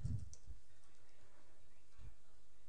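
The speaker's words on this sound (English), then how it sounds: "I will click on the little papercut icon at the bottom left-hand corner of my screen" A computer mouse gives a few quiet, sparse clicks at a desk. One pair comes at the start, another shortly after, and a last single click follows about two seconds later, with near silence in between.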